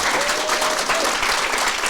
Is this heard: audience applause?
yes